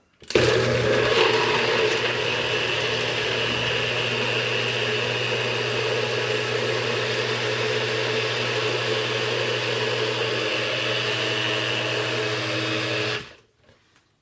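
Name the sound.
blender grinding frozen fruit into a thick shake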